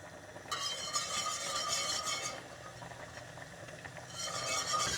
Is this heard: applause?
no